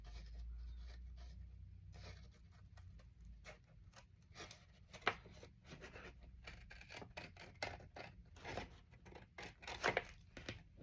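Scissors cutting paper for handmade envelope art, a quick run of close, crisp snips in an irregular rhythm with occasional louder cuts.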